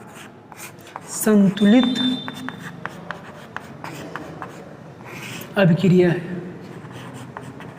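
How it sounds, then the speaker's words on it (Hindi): Writing on a board during a chemistry lesson, scratchy strokes ticking and scraping in short runs between and under a teacher's speech. "हम लोग यहाँ लिख सकते हैं"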